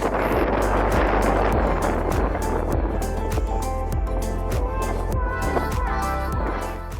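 Strong wind buffets the microphone on a South Padre Island beach, a loud, continuous roar with rhythmic gusting thumps throughout.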